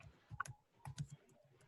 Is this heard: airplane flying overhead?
no